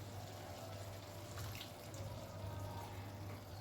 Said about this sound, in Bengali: বাটি ধোয়া সামান্য একটু জলও দিয়ে দেবো